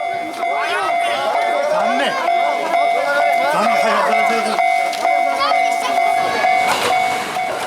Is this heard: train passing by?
yes